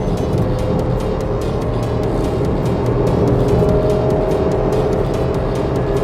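A 2024 Maruti S-Presso with an AGS automated gearbox accelerates at full throttle, its engine a loud, steady drone that climbs gradually and holds close throughout, with no voices.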